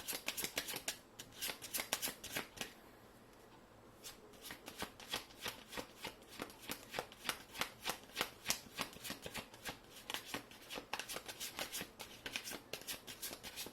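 Tarot cards being shuffled, a long close run of crisp rhythmic riffling clicks with a brief pause early on, no voices.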